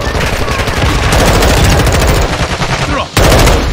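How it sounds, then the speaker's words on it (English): Sustained automatic gunfire in Call of Duty: Modern Warfare II on the Embassy map: loud, dense and close, with rapid overlapping shots that barely pause, briefly dipping just before the end. "Taking effective fire!"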